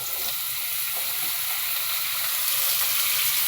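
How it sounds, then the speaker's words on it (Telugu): Onions with turmeric and pieces of ridge gourd fry in a pan, giving a steady, even sizzle and hiss that stays close and constant throughout, with no talking. "మరొక నిమిషం ఫ్రై చేద్దాము"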